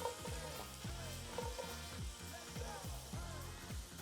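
Shredded carrots and chopped white onion frying in a pan, a continuous soft sizzle with a faint rhythmic stirring pulse, close but quiet, no voices.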